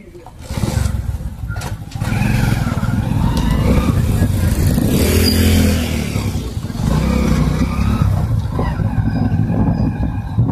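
A vehicle engine starts and revs, giving a loud, steady rumble that runs almost the whole clip while voices talk over it.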